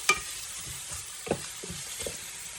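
Onions stir-frying as they are mixed in a pan, a quiet low sizzle with a few distinct scraping and clinking strokes of the spatula at irregular intervals.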